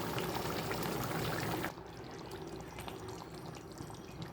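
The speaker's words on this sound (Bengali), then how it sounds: "দেখুন ঝোলটা ফুটে উঠেছে।" Curry sauce for a large snakehead fish bubbles in a pot, a dense watery bubbling that is louder at first, then drops to a softer steady simmer after a sudden change.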